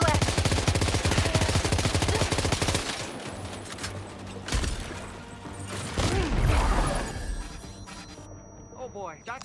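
Rapid bursts of gunfire in the video game Death Stranding 2, loud and dense machine-gun volleys that dominate the first few seconds, then thin into scattered shots and crashes with a brief quieter stretch near the end.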